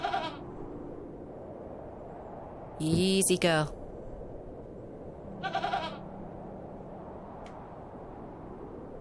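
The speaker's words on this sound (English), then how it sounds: "I'm not fond of goats at the best of times, but this one seems particularly disagreeable." A goat bleats twice in the video game The Excavation of Hob's Barrow, a loud wavering cry and then a shorter, fainter one, over a quiet ambient background with a brief spoken line.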